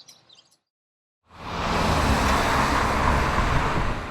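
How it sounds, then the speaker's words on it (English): Heavy interstate traffic at Louisville interchanges with on-ramps, off-ramps and flyovers, heard as a sudden, loud, continuous roar of passing vehicles after a short silence and a brief bit of faint sound. "On ramps, off ramps, merging traffic and flyovers."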